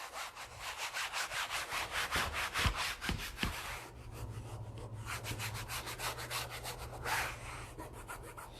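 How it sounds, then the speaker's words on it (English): Steady rhythmic rubbing of a hand pressed over a wrinkled, freshly glued panel to smooth it flat, with repeated close strokes and a faint low hum underneath. "And so I rub it just down with my hand."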